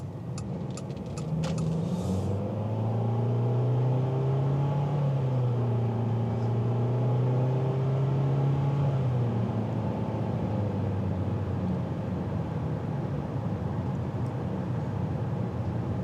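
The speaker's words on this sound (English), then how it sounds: "When you accelerate, it has a CVT transmission, but it tries to simulate gears" A 2025 Mitsubishi Outlander SEL with a CVT accelerating, heard from inside as a low, steady engine drone that rises and falls in smooth steps, with a few faint clicks at the start and no talking.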